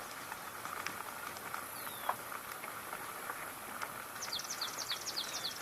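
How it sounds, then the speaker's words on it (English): A swamp sparrow sings a faint, rapid trill of repeated high notes near the end, against an open outdoor background with scattered other bird calls. "Just heard a swamp sparrow."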